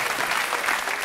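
A studio audience applauds in a dense, steady burst of many hands clapping together, evenly loud from start to finish with no voices.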